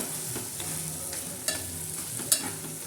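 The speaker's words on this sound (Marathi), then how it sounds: "आता ह्या भेंड्या ना मस्तपैकी परतू द्या" Peanut-stuffed slit okra frying in a pan, a steady close sizzle with soft scrapes and clicks as the pods are stirred and turned, no voices.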